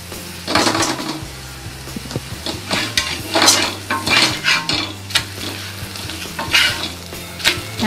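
Ragi adai cooking slowly on a low flame in a pan, a crackling sizzle under repeated metal scrapes and clinks of a spatula on the pan, close and fairly loud, with no talking.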